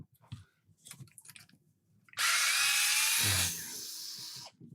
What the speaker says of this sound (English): These electric screwdrivers don't really like it.